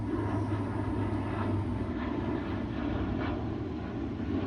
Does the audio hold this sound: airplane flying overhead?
yes